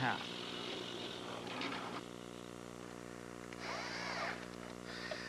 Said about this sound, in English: I'm starting to form the mortises in the legs here by using a 1-inch flat bottom bit called a Forstner bit